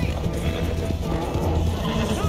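Rapid clip-clop of horse hooves at a gallop in Red Dead Redemption 2, steady and close over continuous game sound, with a brief whinny-like call mixed in.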